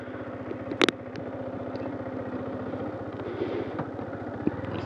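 A Yamaha MT15 V2 motorcycle engine idles with a steady, close low-pitched rumble, and a brief sharp knock sounds near the start.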